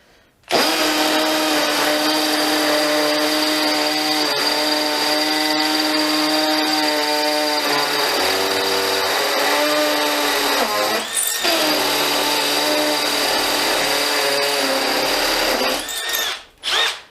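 A DeWalt Atomic DCD709 combi drill runs under load for about fifteen seconds, a loud, steady whine that dips as the motor bogs and strains, then recovers before stopping with a short final burst.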